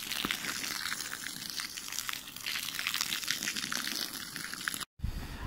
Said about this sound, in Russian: Теперь протянули шланг, будем заливать.